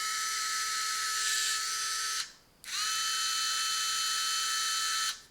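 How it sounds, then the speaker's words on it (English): A Parkside PEPS 3 B1 electric precision screwdriver motor whirs with a high, steady whine, briefly stops and starts again, then cuts off. It is heard close up and alone. "We can hear in the motor"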